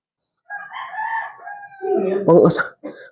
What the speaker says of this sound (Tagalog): Buwisit na manok yung tilaok ng tilaok eh.